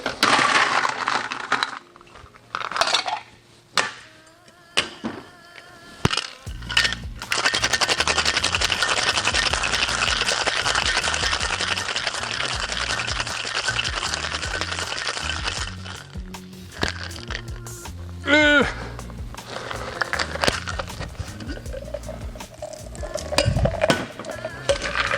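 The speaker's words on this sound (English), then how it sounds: "add some ice, give it a shake." Ice rattles in a cocktail shaker during a cosmopolitan-style drink, beginning with scattered clinks as the ice goes in, then a long, loud, rhythmic shake of about ten seconds, followed by lighter clinks and taps.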